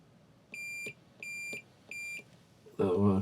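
Multimeter on its continuity setting, emitting three short, clear, high electronic beeps at a steady, even interval, followed by a brief voice at the end.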